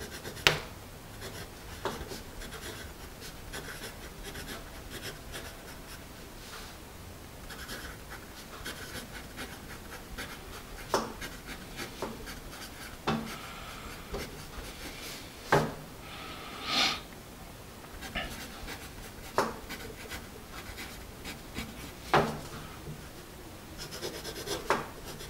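A Musgrave Greenbelt pencil writing on paper, soft graphite scratching broken by intermittent sharper taps and strokes at irregular intervals, close and fairly quiet.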